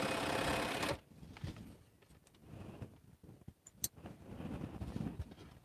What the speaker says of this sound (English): I'm just sewing from what I cut.